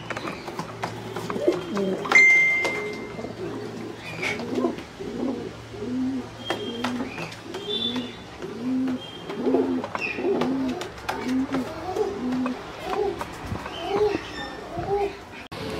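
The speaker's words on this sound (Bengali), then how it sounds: "এই হলো নর পায়রা।" A male pigeon coos in a steady repeated series of low, rhythmic calls at close range for about sixteen seconds. Faint background noises and brief clicks sound around it.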